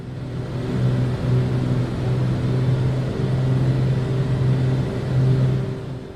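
Engines of a BAE146 airliner in Microsoft Flight Simulator drone steadily in cruise, a continuous low hum with a gently wavering tone and no pauses.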